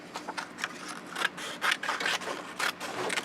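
Scissors trim paper for a mini Halloween craft album, a series of quick crisp snips and rustles in an irregular rhythm, close and fairly quiet.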